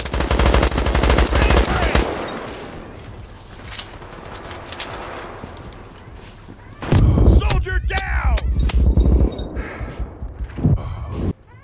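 Gunfire in a firefight in the video game World War 3, dense bursts of automatic fire and sharp shots with crashes, loud and continuous, a brief lull in the middle, then heavy fire again with voices mixed in.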